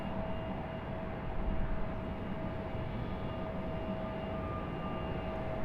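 Steady jet engine roar of an airplane at Raleigh Durham airport, a broad continuous rumble with a thin whine, at a distance and alone.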